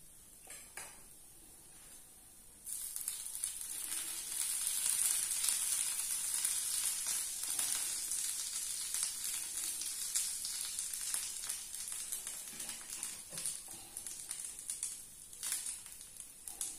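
Butter dosa frying on a cast-iron griddle, a steady bright sizzle that jumps louder after a quiet start and holds close and continuous, with a few faint utensil clinks and no talk.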